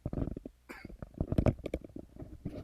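A single person coughs a few times in quick bursts, close and fairly loud, with short throaty breaths between them and a quiet indoor room behind.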